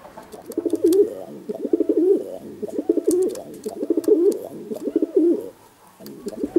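Pigeon cooing in repeated soft, rolling phrases, a champion racing pigeon offered for sale, calling steadily at close range with brief pauses between coos.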